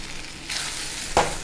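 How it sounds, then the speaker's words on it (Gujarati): A sabudana khichdi mixture is stirred in a frying pan, giving a quiet steady sizzle followed by a short, sharper scrape of the spoon near the end. "આવી રીતે તેને મિક્સ કરવાની છે અને 2 મિનિટ માટે થવા દેવાની છે."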